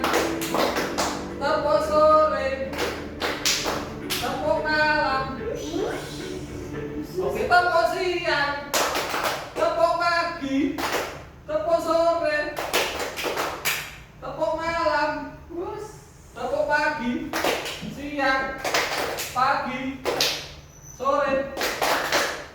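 Teacher and students in a classroom trade call-and-response clapping chants, short bursts of sharp claps in counted groups separated by spoken calls, the voices and claps alternating near and clear.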